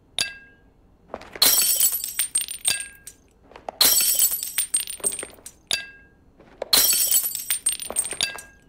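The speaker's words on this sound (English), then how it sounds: "why are you breaking all these bottles?" Glass bottles smash in a video game, in three loud bursts of shattering glass with clinking shards, each followed by scattered tinkles and debris and short pauses in between.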